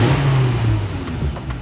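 A Dodge Viper with 28,000 miles idles loud and close, its engine running with a deep, rough, truck-like rumble and a steady low drone throughout.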